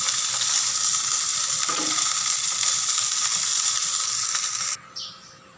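Chicken breast fries steadily in a hot pan with a dense, continuous sizzle close by, cut off abruptly near the end and followed by a brief quieter clatter.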